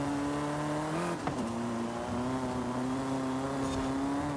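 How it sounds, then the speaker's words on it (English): A front-wheel drive car races in Forza Horizon, its engine holding a steady, loud drone close by, with a brief dip and a quick shift around one second before the pitch rises gradually again. "this is a front-wheel drive vehicle"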